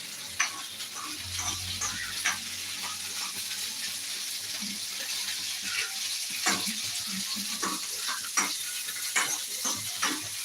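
Raisins roast in a pan for ada pradhaman payasam while they are stirred, giving a continuous close sizzle with scattered spoon scrapes and small pops throughout.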